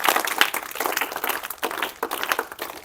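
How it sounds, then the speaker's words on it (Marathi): Loud, dense applause and clapping from a crowd gathered to cheer a taluka's success at a school sports meet, sustained for several seconds with uneven swells. "पुन्हा एकदा फलटण तालुक्यासाठी आपण जोरदार टाळ्या वाजूयात"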